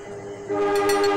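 A passenger train at Kalioso station sounds its horn as departure signal S35, a sustained steady tone that swells louder midway and holds, close by, with no talk.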